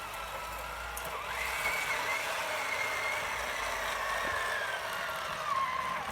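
A 1978 Tamiya 1/16-scale Flakpanzer Gepard RC tank drives with a steady electric motor and gearbox whine whose pitch rises and shifts as it moves, close by and with no talking.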